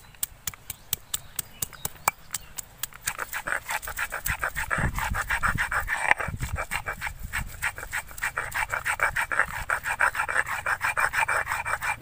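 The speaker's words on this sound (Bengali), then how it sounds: "আমি আদাটা আগে বেটে নেব।" Ginger is ground into spice paste on a grinding stone, with sharp, rhythmic rasping strokes close up that start sparse, then become a fast, steady rubbing scrape.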